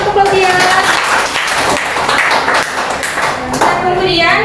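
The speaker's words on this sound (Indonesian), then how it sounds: "Tepuk tangan untuk Claudia." Students in a classroom clap together in a brief burst of dense applause, with voices mixed into the clapping.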